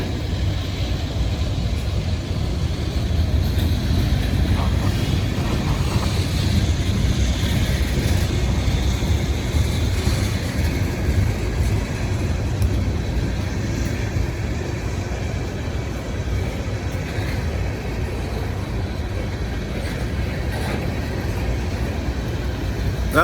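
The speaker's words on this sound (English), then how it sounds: "That locomotive is sanding the rails right now. You can hear it." A Norfolk Southern locomotive sanding wet rails in the rain gives a steady, loud rumbling roar with a constant hiss over it, continuing unchanged for the whole stretch without any talk.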